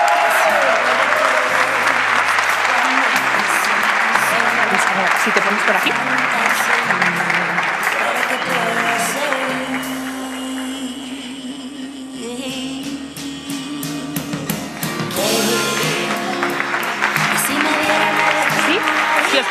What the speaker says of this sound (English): Congratulations to all of you and applause for them.